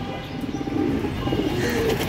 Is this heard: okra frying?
no